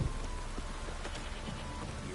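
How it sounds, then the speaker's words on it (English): A steady downpour hisses through the open world of Witcher 3, broad and constant, with scattered drops and faint knocks over the wash of rain. "This downpour's a bastard, it is."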